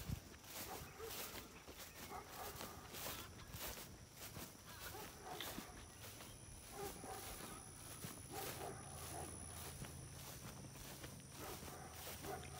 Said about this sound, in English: I hear them barking, see them coming over here.